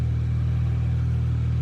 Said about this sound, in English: wait for this loud ass fucking car to go somewhere